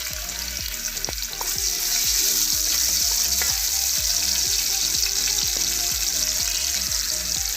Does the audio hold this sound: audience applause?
no